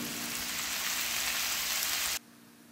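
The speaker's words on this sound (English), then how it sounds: "You can see them sizzling" Crab roasted with Indian spices sizzles loudly in a pan, giving a dense, continuous frying hiss up close that stops abruptly near the end.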